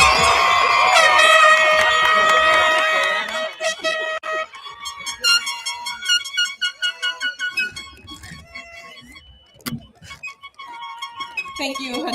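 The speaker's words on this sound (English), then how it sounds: "Where are those air horns?" At a graduation ceremony, loud harmonic horn blasts sound at first, then a crowd cheers and shouts in bursts with scattered voices and further short horn-like honks.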